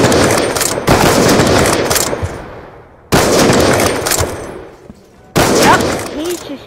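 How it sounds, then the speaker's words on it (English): Gunfire in a first-person shooter match during a rookie one-versus-one tournament: loud, dense rapid bursts in three volleys broken by short pauses, close and harsh. "All I can hear is just gunfire, that's all. There's too many gunfires going on."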